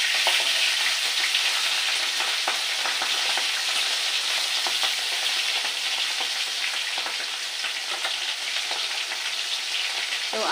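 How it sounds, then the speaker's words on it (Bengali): Fish sizzles and spits steadily in hot oil in a kadai, a continuous crackling hiss with small pops, close and alone without any talk. "আর মাছটা তো এই কড়াইতে দিয়ে ভাজি বসিয়ে দিয়েছি।"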